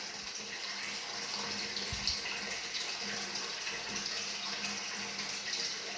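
Cold water runs and splashes steadily as a child is bathed, a constant close pour with a few soft thumps and splashes.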